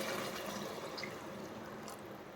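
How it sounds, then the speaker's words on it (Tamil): Water from boiled chicken poured into a cooking masala for a chicken dish, a steady liquid pour and splash running throughout at moderate level, with no talk. "மசாலா இந்தளவுக்கு நல்லா வணங்கி வந்தோடனே நம்ம சிக்கன் வேக வச்சுருக்கிற தண்ணியை ஊற்றிக்கலாம்."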